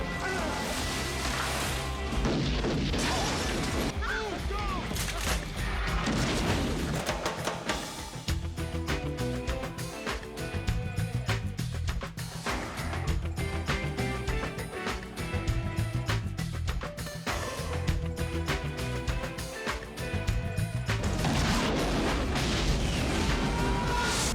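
Shots from movie prop guns firing live rounds, sharp cracks and crashing impacts recurring amid dramatic film music, with brief shouted lines.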